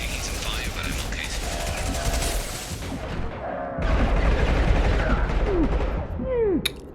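Gunfire in the Mass Effect Legendary Edition video game, rapid bursts and booms layered under game dialogue and mechanical effects, with a steady loud barrage that shifts partway through.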